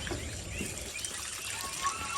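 Water trickles steadily out of a fish tank outlet on a farm, a continuous faint hissing flow with no talking.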